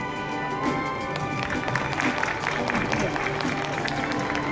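Steady applause from a crowd at a horse racing award ceremony for the winning horse's connections, dense and continuous with a busy, bustling background.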